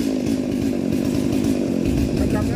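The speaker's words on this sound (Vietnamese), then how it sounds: "Nay ba mình cưa cây cao vua nha quý vị." A chainsaw cuts through a king palm trunk near a fence in Go Cong, Vietnam, its engine droning steadily and loud throughout with a slight shift in load near the end.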